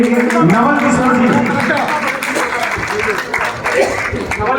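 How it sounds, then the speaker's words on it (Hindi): At a Sundar Kand recitation and patriotic song event at New Police Line Kingsway Camp, a crowd claps in loud sustained applause while a voice speaks over it, the clapping continuing for several seconds. "श्रीमती चंद्र प्रभा जी, ताली बजाते हैं इनके लिए।"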